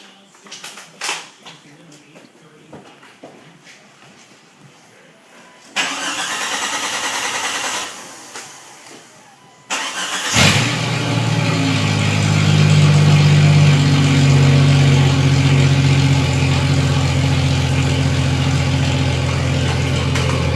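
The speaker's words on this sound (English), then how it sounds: "I'll start it up for you guys." Straight-piped Jeep XJ Cherokee cranking with a whirring starter before the engine catches and settles into a loud, rumbling, steady idle close by; faint handling noises and rustling come first.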